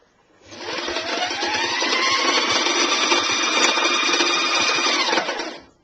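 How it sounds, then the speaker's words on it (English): A sewing machine spins up to wind a bobbin with thread for jersey fabric, a steady high-speed motor whir that holds an even pitch for about five seconds, then stops. Close and loud, with no voices. "So what I'm going to do is bind the bobbin with the same thread."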